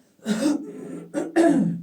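Two rough coughs, close up, the second louder, separated by a short breath.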